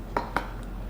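Small kumquats dropped into a cooking pot, two distinct clinking knocks a moment apart followed by a faint lighter tap, close and clear over quiet kitchen background.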